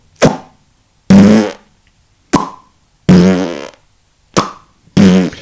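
Six short buzzing didgeridoo bursts in the kiss technique's "p" sound alternate between clipped pops and longer droning pulses, separated by brief silences.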